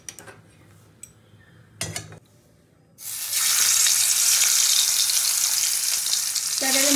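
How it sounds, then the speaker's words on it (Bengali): Tangra fish, scaleless, are dropped into hot oil in a pan and burst into a loud, steady sizzle, after a few quiet clinks of cookware beforehand. "এবার মাছগুলো আমি একে একে ছেড়ে দেবো।"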